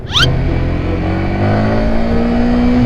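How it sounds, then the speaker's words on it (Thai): Yamaha R15 motorcycle on its stock exhaust accelerating hard, a loud close engine note climbing steadily in pitch with wind rush, no talking. "วันนี้เรามาขับ R15 กันลองดูครับว่าเป็นไง"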